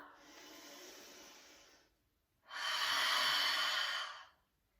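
Slow deep breathing during a yoga flow, a soft inhale followed by a louder, longer breathy exhale, both close and alone.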